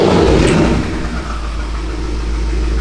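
A modified BMW M5 F10 engine runs at a steady idle after a fuel injector replacement, a close, loud low rumble that settles after a brief louder moment at the start, with no voices.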